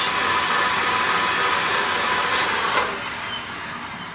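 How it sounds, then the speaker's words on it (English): An electric mixer whirs steadily while whipping peppermint American buttercream frosting, a loud close continuous motor drone that eases off slightly near the end, with no talking. "I'm just going to drip that in there, and then I am going to continue mixing"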